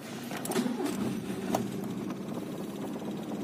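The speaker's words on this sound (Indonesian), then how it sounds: "Sekarang starter aja mobil ini." A 1986 Honda Civic Wonder two-door hatchback cranked and running, a rough steady engine rumble with a few clicks and knocks near the car, fairly quiet and without voices.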